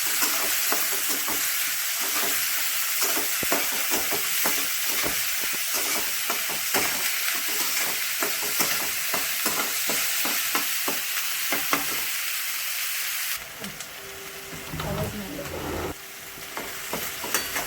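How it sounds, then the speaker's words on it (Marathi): Onion goes into hot oil with garlic and green chili for a yellow potato bhaji, producing a loud, continuous close sizzle broken by repeated scraping strokes of a spoon. Near the end the sizzle drops into a softer hiss. "आता आपण कांदा टाकणार आहोत। कांदा थोडासा लाल करून देणार आहोत।"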